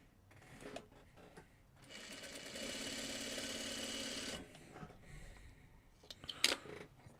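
A sewing machine stitches a quilt block, its needle running in a steady fast whir for a couple of seconds amid quiet handling sounds, followed by a light sharp click near the end.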